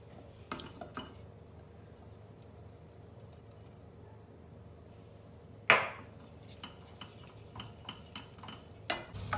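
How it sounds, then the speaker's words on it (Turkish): Butter melting and flour toasting in a pot for broccoli soup, with faint sizzling under sharp metallic clinks and scrapes of a utensil stirring against the pot, and one louder clatter midway. "Bir tencerede tereyağımı eritiyorum. Eridikten sonra unumu ekleyeceğim içerisine ve unun kokusu çıkana kadar kavuracağım."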